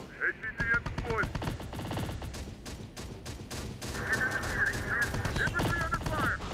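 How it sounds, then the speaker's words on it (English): Gunfire in the video game Terminator Dark Fate Defiance, rapid bursts of automatic shots crackling repeatedly over a busy battle din, with voices in the mix. "We're taking fire."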